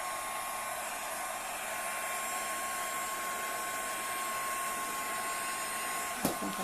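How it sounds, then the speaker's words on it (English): Heat embossing tool blowing hot air to melt embossing powder on a Christmas gift tag, a steady loud whooshing blower hum that runs without a break, cut off by a brief click near the end. "I think I did blow some of that off with my heat tool"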